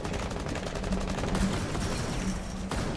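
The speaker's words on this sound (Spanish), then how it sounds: "Me he dado cuenta que he pegado tres tiros y los tres han ido a la barandilla." Gunfire in Rainbow Six Siege comes as a rapid stream of muffled shots over busy game noise. It is steady and fairly loud, with a sharper crack near the end.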